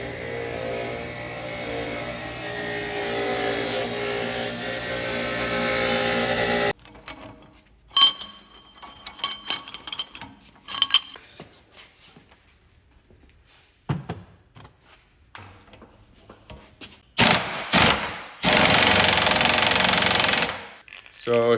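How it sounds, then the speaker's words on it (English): A wire wheel grinds on a rusty axle shaft part in loud, harsh bursts, a long run at the start and more near the end. Quieter gaps between them hold clinks and handling noises. "we're gonna hit it with the wire wheel and reuse it"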